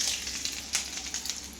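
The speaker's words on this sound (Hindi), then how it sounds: "और ये है राई बारीक वाली, और इसमें ऊपर से तड़का लगा दिया" Mustard seeds and chopped green chillies crackling in hot oil as a tempering for dhokla, a steady close sizzle with sharp pops scattered throughout.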